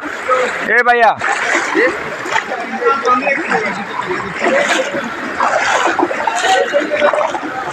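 A boat moves through floodwater in Mirsarai, with steady splashing and churning water close by and voices talking over it throughout.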